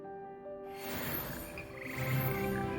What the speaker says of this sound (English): Slimy yet symphonic frogs